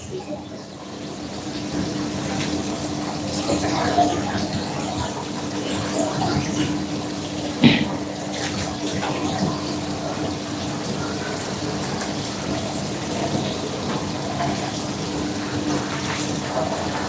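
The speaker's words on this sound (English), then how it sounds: "Let me cool down our pasta with some cold water," Cold tap water runs steadily over cooked pasta in a busy professional kitchen, a continuous close rush with faint background clatter.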